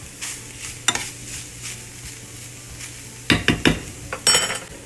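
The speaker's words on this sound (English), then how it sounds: "So just stir that in and just have it on like medium heat." A shepherd's pie mixture sizzles softly in a pan over medium heat, then a spoon scrapes and clinks against the pan in several quick stirring strokes.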